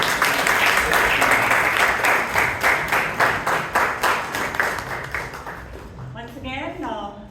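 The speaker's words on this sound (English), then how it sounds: "Give him a big round of applause." An audience at a Toastmasters club meeting in Bangalore claps steadily for several seconds. The clapping is loud and dense, then thins out and fades as a voice starts speaking near the end.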